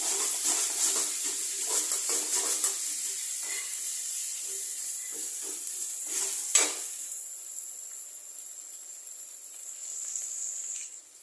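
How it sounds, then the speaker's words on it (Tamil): Ginger garlic paste sautéing in a pan makes a continuous bright hiss and sizzle, with a few soft utensil scrapes and one sharper clink partway through. "இப்போ இஞ்சி பூண்டு பேஸ்ட் போட்டுக்கலாம். நல்லா வதக்கிக்கலாம்."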